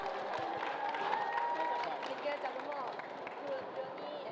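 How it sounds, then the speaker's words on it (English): An audience at a freediving stage panel claps and cheers, a dense steady applause with crowd babble and a few voices rising through it. "Give me an applause, please,"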